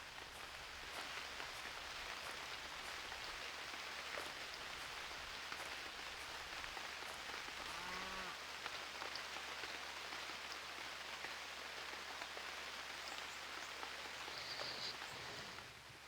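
Steady rainfall in the survival game UnReal World, a dense even hiss of drops on surfaces, continuous and moderately quiet, with a brief tonal game sound partway through and no talking.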